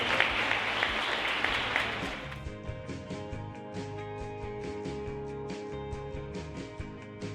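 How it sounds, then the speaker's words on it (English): An audience at a DC Fashion Week show breaks into a loud round of applause that lasts about two seconds, then gives way to music playing on its own. "I think the founder, Mr. Ian Williams, deserves a round of applause for that."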